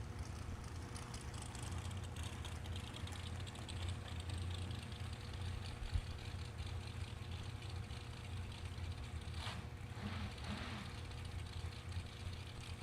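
A drag racing car's engine in the staging beams rumbles steadily at some distance, a low continuous drone with little change in pitch.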